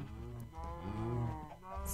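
Cows in Minecraft low like a small herd, several overlapping drawn-out moos filling the stretch at close range, with no talking.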